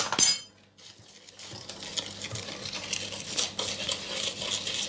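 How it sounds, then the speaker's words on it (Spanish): Spoon mixing cookie batter in a bowl as dry ingredients are folded into the liquids: a quiet thump at the start, then soft, steady scraping and occasional light clinks, close and faint. "el sólido, lo agregamos a los líquidos y mezclamos"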